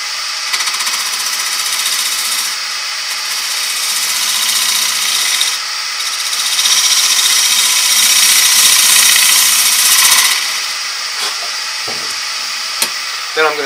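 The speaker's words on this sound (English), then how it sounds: "So I'm going to use the bowl gouge." A woodturning lathe runs while a bowl gouge cuts the rim of a hollow form wooden pot, a loud steady hissing scrape that swells and eases over the motor hum, close by, with a few knocks near the end.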